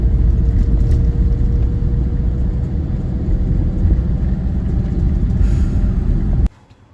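A vehicle on its way to unload sand after hauling it drives with a loud, steady engine rumble and road roar close by. The noise cuts off abruptly near the end, leaving near silence.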